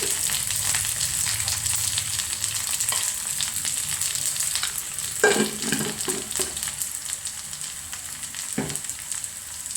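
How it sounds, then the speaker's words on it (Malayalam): Dried red chillies and curry leaves sizzle and crackle steadily in hot oil, a close, continuous frying hiss with a few louder pops and stirring scrapes near the middle. "നമുക്ക് ഉണക്കമുളക് ഇട്ട് കൊടുക്കാം"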